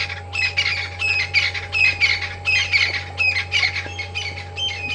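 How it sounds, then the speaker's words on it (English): A crested francolin calls loudly in the wild at sunset, a rapid series of harsh, rhythmic squawking phrases repeated over and over, close and prominent above a low steady hum. "there is the loud, comically idiotic crested francolin as it's coming in to grab its share of the termites"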